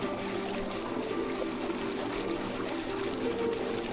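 Water runs from a tank into a container, a steady pouring and trickling stream held at a constant level for a few seconds, faint and close with no talk over it.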